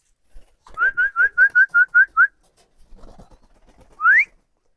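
Pet pigeons gather to be fed, giving a rapid run of about nine short whistling notes, a brief pause, then one rising whistle, close and clear over a quiet background.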